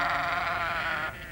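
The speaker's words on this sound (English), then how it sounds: "Roux and Chamberland are in constant attendance on the sheep" A sheep gives one long, wavering bleat close by, clear and fairly loud, before it tapers off near the end.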